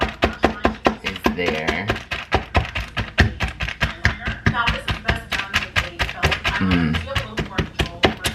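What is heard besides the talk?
fork poking beef slices to tenderize them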